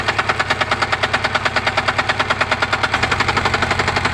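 An engine idles just after its first start, a loud, close, rapid and even chugging pulse with a slight shift in tone partway through, heard alone.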